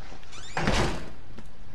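In the horror game Outlast, a door bangs shut with a single heavy thud that rings out briefly, close and fairly loud, followed by a faint knock in the background and no talking.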